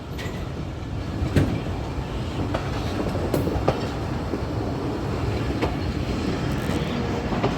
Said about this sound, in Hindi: ये एक्सप्रेस ट्रेन है, इसमें हम सफ़र कर रहे हैं